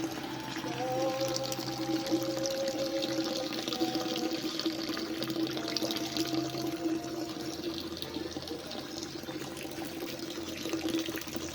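Fresh, clear spring water flows beside a hotel in Konsh valley, a steady close rushing and trickling that lasts throughout under a faint tonal hum.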